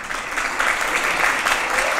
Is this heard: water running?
no